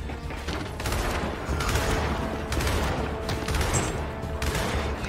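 Rapid bursts of video game gunfire from Gears 5 crackle steadily over a dense, busy background, with repeated shots blending into continuous volleys and no clear talking.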